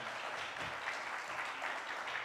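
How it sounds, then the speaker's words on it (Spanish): Audience at an Andean Colombian music gathering applauding, a steady wash of clapping heard at moderate distance without voices. "Fuertes aplausos."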